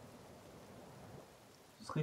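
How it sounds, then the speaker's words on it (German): Steady rain hisses in a forest in the video game The Forest, a soft, even wash of noise throughout, with a voice and a brief louder sound rising at the very end. "Es regnet immer noch."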